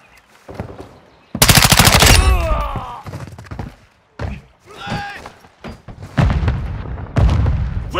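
Video game gunfire in a multiplayer shooter: loud bursts of rapid automatic fire, several separate volleys with short gaps, close and dominant, with brief game voices between them.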